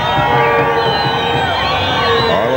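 Crowd at the 1988 Argentine Open polo final between La Espadaña and Indios Chapaleufu roaring and cheering steadily throughout, a dense sustained wash of many voices at close range.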